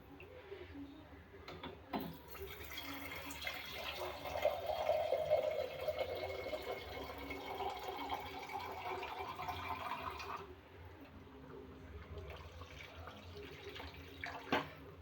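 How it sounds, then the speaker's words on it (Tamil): Water poured into a simmering lentil dumpling kuzhambu in a home kitchen: a steady, soft splashing stream for several seconds that then tapers off, with faint background noise and no speech. "இதை கட்டி ஊற்றிட்டு நம்மளுக்கு தேவையான அளவு தண்ணி ஊற்றணும்"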